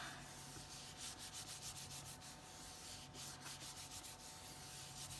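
Folded paper pressed and rubbed down onto a glued card for a bookbinding-style pop-up card, a steady soft scraping friction that continues for several seconds, close and quiet with no voices.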